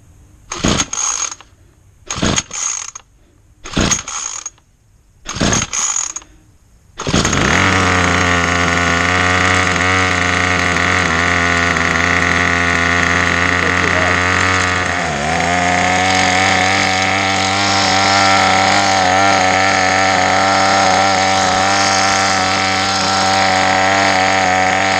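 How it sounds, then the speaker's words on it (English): A Troy-Bilt gas-powered strimmer engine: five quick pull-cord rasps, each cut short, then the two-stroke motor catches and runs loud and steady, with one brief dip in revs midway. "we're going to pull 3 to 4, 5 more times to start the engine"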